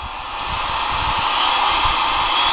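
A Makita RT0701C 1-1/4 HP variable-speed compact router runs steadily at high speed, its dense whine swelling slightly louder as the speed is turned up, with no talking.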